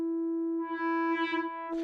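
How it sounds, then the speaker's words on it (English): A pure synthesizer sine wave oscillator on a West Pest synth, a steady sustained tone with faint wobbles toward the end and a brief noisy burst just before it stops, heard alone. "So back to sine wave."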